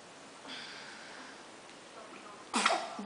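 A single sharp, fairly loud sneeze bursts out near the end, after a stretch of quiet room tone with a soft voice murmuring earlier on.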